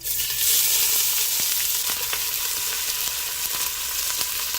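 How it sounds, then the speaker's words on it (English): Onion frying in warm olive oil in a pot, a steady close sizzle with faint crackles throughout, no voices, for an Azorean bean stew with linguica and pork. "So we put the olive oil. I let it warm it up a little bit. So I'm gonna put the onion now."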